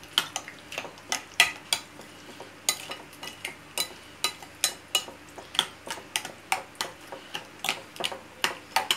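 A spoon stirs cacık, a yogurt dip, in a bowl, making steady rhythmic clinks against the sides, roughly two per second, close and clear with no talking.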